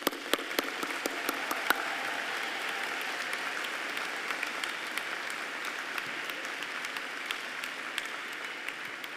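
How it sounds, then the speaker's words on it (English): Audience applause at a spring 2021 university diploma ceremony for the College of Business, a steady wash of clapping that holds at moderate level for the whole stretch, with no talk over it. "and they merit your applause."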